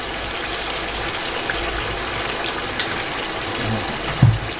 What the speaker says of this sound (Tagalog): Ito na suka.